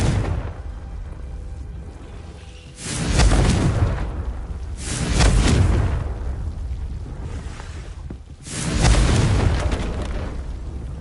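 Confringo fire spell explosions in the Hogwarts Legacy video game, three loud booming blasts a few seconds apart, each bursting then rumbling away under a low steady game background, with no talk.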